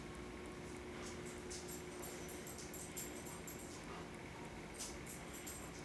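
A Rottweiler whimpers in soft, faint whines over a steady background hiss, with a few brief higher yips scattered through the stretch.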